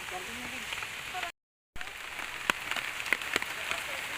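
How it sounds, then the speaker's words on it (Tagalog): Heavy rain pouring down outdoors, a dense steady hiss with scattered sharp drop impacts close by, briefly cut out before resuming, with no clear talk. "Wala ni kusog gyud kayong ulan oh."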